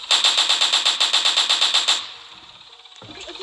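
Rapid automatic gunfire in a Roblox zombie game, a loud burst of about a dozen evenly spaced shots lasting two seconds, followed by a quieter tail and a faint thump.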